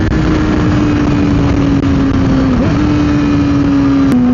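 A Yamaha R6 600cc sport bike engine runs at a steady, loud drone while riding, holding a constant tone with a brief dip and shift in pitch near the end, with no talk.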